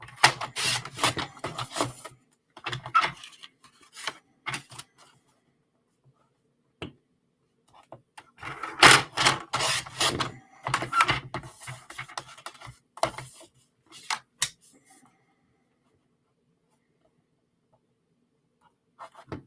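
Patterned designer paper cut diagonally for a fan card, close crisp slicing and rustling strokes in irregular bursts separated by near silence.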